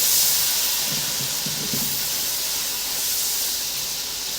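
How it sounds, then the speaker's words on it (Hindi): Turmeric and spices frying in hot oil for aloo gobhi, a steady loud hiss and sizzle filling the whole stretch without let-up, with faint low clatter underneath and no talk. "आधा चम्मच हल्दी, मसालों को फ्राई कर लेंगे।"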